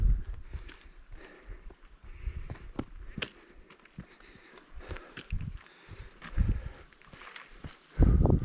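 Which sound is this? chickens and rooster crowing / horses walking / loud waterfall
horses walking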